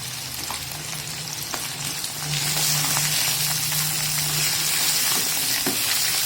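Cluster beans sizzle steadily in a hot pan with salt, a dense crackling hiss that swells louder partway through, with faint stirring taps, close up and without talk.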